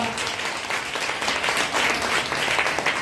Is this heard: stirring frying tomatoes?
no